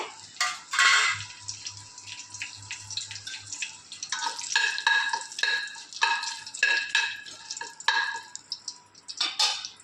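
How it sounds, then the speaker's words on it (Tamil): Whole spices fry in hot oil for paneer biryani, with uneven crackles and pops mixed with the clatter of a spoon stirring the pan, close and intermittent throughout. "எண்ணெய் காய வச்சு இந்த வாசனை பொருள் எல்லாம் போட்டேங்க"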